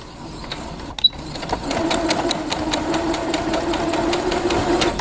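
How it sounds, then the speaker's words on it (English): A sewing machine stitches fabric for a sunglasses case in a fast, steady mechanical rhythm after a short click and pause, running close and even with the presser foot down. "I'm going to put my presser foot down, put my needle in, and I'm going to start sewing."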